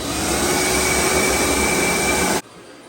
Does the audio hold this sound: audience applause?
no